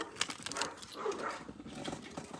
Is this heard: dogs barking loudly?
yes